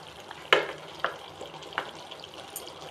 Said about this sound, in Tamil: இப்போ நான் கருவேப்பிலை போடுறேன்.